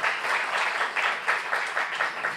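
A congregation applauds during a church worship service, a loud, full wash of clapping that swells in gentle pulses and carries on without a break.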